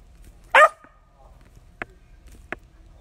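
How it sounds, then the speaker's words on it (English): A dog gives a single sharp bark close by, followed by two brief soft clicks or taps in an otherwise quiet room. "now she's barking at me."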